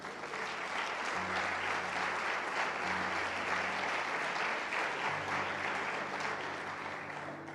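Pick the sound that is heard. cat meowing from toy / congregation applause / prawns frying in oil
congregation applause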